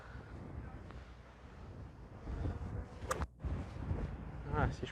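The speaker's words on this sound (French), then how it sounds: "Il y a le vent avec." Wind buffets a golf course in gusty conditions, a rough blustery rumble across the microphone that swells in the second half, with a voice talking under it.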